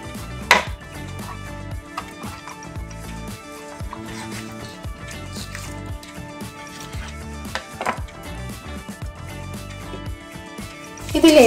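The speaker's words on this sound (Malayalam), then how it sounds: "ബോൺലെസ് ചിക്കനാണ് എടുക്കുന്നത്. അത് ചെറിയ പീസായിട്ട് നൂറത്തിൽ മുറിച്ചെടുക്കാം." A knife chops boneless chicken into small pieces on a board, a run of irregular soft knocks and taps at close range, with a sharper clatter near the end.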